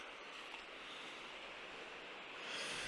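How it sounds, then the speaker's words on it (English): A steady broadband rush of flowing water, constant and fairly faint, swelling slightly toward the end with no voices. "And you've got the river, you can probably hear that down at the bottom there"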